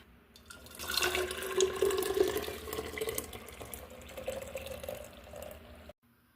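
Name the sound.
pouring hot homemade grape jelly into a glass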